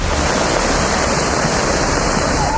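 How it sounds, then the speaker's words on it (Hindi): Roaring floodwater in a deadly flash flood sweeping away cars, a dense, constant rushing wash that stays loud and unbroken from start to finish, like heavy surf or a waterfall close by. "हाहाकारी पानी, खौफनाक है ये सैलाब"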